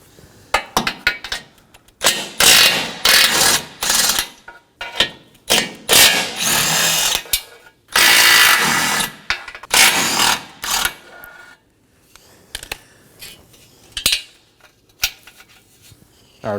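Ratcheting or power-driven removal of 13mm nuts from the front bumper impact absorber bar of a 2015-2023 Nissan Maxima, heard as repeated short mechanical bursts with pauses between, loud and close, with no talking.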